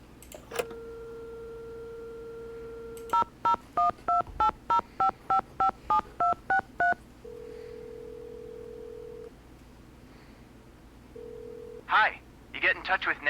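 Touch-tone dialing in a Nancy Drew video game: a steady dial tone, then a quick run of about eleven crisp DTMF beeps, followed by longer tones and a brief burst of other sound at the end.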